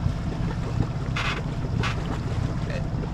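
Wind blows over a reefed sailboat bearing off near Biscayne Bay in gusts up to about 20 knots, a steady low rumble of wind noise and water with a few brief hissing bursts.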